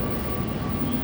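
A metro train rolls past at an elevated station, a steady, close rumble with a faint high tone holding throughout the short stretch.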